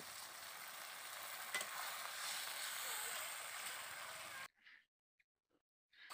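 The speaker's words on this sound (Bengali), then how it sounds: "দেখো মশলা থেকে তেল ছাড়তে আরম্ভ করে দিয়েছে" Spice paste for a village-style pumpkin curry fries in oil with a loud, steady sizzle and light stirring for about four seconds, then cuts off to near silence with a few faint, scattered sounds.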